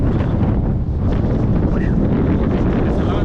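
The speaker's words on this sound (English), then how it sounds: "There's a lot of wind, and I have to battle the wind resistance that is pushing me back." Steady, loud wind buffets the microphone throughout while someone rides a bike outdoors on a windy day, a continuous low roar with no break.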